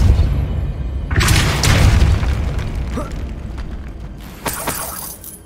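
Depulso spell blasts in the Hogwarts Legacy video game: two sharp booming bursts with shattering crackle, one at about a second and a fainter one near the end, over a low rumbling bed.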